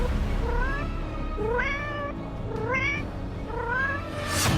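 A cat meows four times in a row, each call rising and drawn out, loud and close with steady background hiss between the calls.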